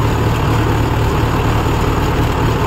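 Mahindra Yuvo 575 tractor engine running steadily, a loud continuous low diesel rumble with no pauses or talk.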